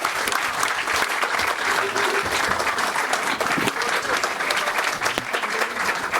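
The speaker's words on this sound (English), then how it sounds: "round of applause for Conor Benn" Steady applause from the audience at boxer Conor Benn's post-fight press conference, a continuous crackle of many hands clapping at moderate volume, close and unbroken for several seconds, with no talking over it.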